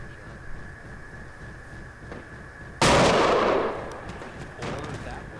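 Heavy vehicle gunfire in the military shooter Project Reality: one loud, sharp blast about halfway through that decays into a rumble, followed by a second, softer shot, over a steady battlefield hum.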